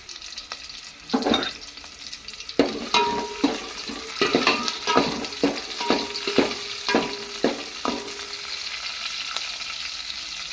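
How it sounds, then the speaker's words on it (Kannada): Onions sizzle and crackle in hot oil as tempering for sambar, with a steady frying hiss broken by a series of rhythmic stirring scrapes against the pan. "ಸಾಂಬಾರಿಗೆ ಒಗ್ಗರಣೆ ಹಾಕತ್ತೀವಿ ನಾವೀಗ."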